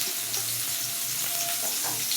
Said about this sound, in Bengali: দিয়ে এটাকে লাল করার জন্য একটু ভেজে নিই